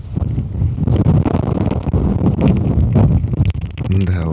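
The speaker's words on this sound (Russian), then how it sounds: "с таким ветрищем никакого пения, конечно же, мы не услышали" Strong wind buffets the microphone at the Singing Dune in Altyn-Emel National Park, Kazakhstan, a loud, continuous roaring gust that carries on throughout.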